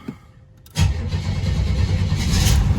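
Hot rod car engine cranks and catches after a moment of near silence, then settles into a loud, steady rumble close by, with no talking over it.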